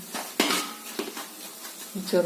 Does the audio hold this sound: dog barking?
no